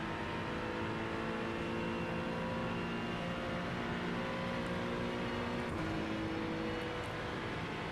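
Race car engine from the iRacing sim during a Daytona 24-hour endurance event, a steady droning roar with layered tonal whine held throughout, occasionally shifting as other cars close in nearby.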